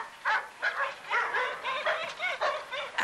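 Small dog giving a run of short, high yapping barks and yips, close by and fairly loud, in quick repeated bursts over a few seconds with no talk.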